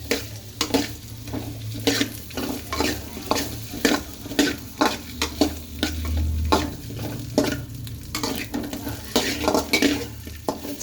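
Onions with ginger garlic paste frying in a pan for paneer and mushroom chilli, a constant sizzle broken by repeated scraping strokes of a spoon stirring against the metal pan, close and with no talk.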